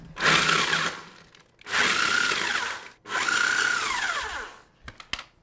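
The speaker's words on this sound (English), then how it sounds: "getting some ginger biscuits and whacking them in a food processor. I'm gonna give them a quick blitz round" A food processor blitzes ginger biscuits in three whirring bursts, each rising and then easing as the crumbs break down, followed by a couple of sharp knocks.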